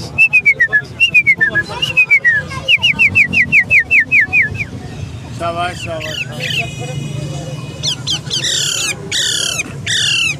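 Alexandrine and ringneck parrot chicks at the Lalukhet Sunday bird market squawk in harsh, piercing bursts that grow louder toward the end, following a run of short human whistles over a background murmur.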